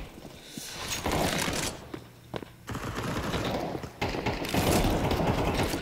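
Rapid Desert Eagle pistol shots in Counter-Strike 2 deathmatch, loud close bursts of gunfire running almost continuously with brief gaps, mixed with other distant game gunfire and no talk.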